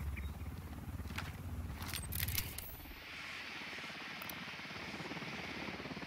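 Helicopter rotor drone in the video game Ghost Recon Wildlands, a steady low thrum lasting throughout at moderate distance, with brief sharper game effects early and a shift in the background wash midway.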